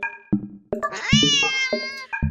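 A cat meows and yowls in a run of loud, close, drawn-out calls broken by short sharp noises, reacting to a laser pointer.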